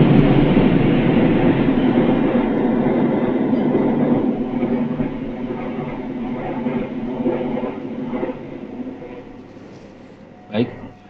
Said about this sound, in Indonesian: mohon maaf ini ada kereta lewat.